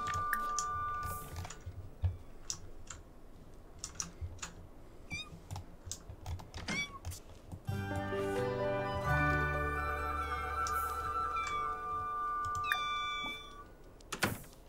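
A cat meows in The Sims 4 amid game sound effects, brief mews scattered over clicking and typing-like taps, followed by a denser stretch of layered game music and effects; no talk.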